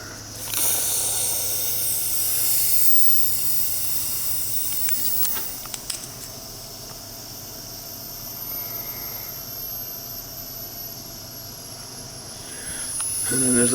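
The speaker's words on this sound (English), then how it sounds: "Drain that tank down completely." Water drains from a large Weil-McLain boiler tank with a steady, close hiss and rush, fading in level midway and swelling again at the end, with a few faint clanks.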